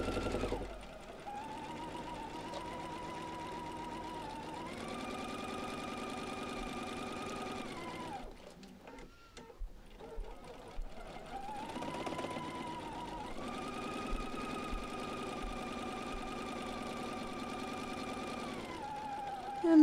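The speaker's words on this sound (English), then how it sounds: "now sew on the other side of that center line, which is our cut line." Steady mechanical whir of a sewing machine stitching quilt blocks along the far side of a center cut line, running continuously in two long stretches with a brief pause between, close and moderately loud.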